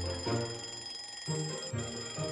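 An alarm clock rings in a parakeet video game, a loud electronic beeping in repeated bursts separated by short pauses, with no talking.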